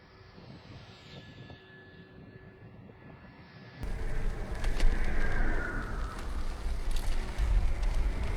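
Large three-bladed wind turbine spins on the south shore of Xiao Qaidam Lake in the Qaidam Basin; a quiet stretch gives way to a loud, steady, roaring whoosh with a rushing, wind-like rumble.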